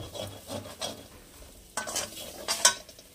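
Spices fry and sizzle in a pan for Bengali vegetable khichuri, with several scraping stirs of a spatula and a few metallic clinks, close and moderately quiet.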